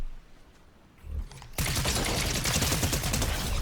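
Weapon fire in the Fortnite video game: after a brief quiet lead-in, a dense, loud, continuous burst of rapid shots fills the rest of the clip, with no talking.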